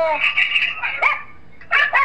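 A dog barks in several short, loud, yappy bursts close by, with a brief pause before a final pair of barks.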